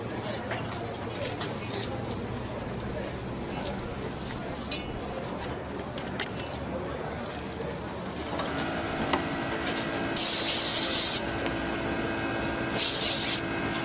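Short hissing bursts of brake cleaner or alcohol sprayed onto a burnt, crud-covered clutch, two bright sprays near the end after a stretch of workshop clatter and people talking.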